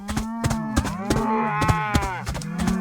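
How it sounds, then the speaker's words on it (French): A herd of cattle moos loudly and close by, several long, drawn-out lows overlapping each other, with sharp clattering knocks punctuating them at regular intervals. "Passe encore qu'il morde une vache."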